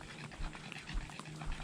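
Puppies on an outdoor nature walk pant rapidly and steadily at close range, a rhythmic breathy huffing that runs throughout with no talking.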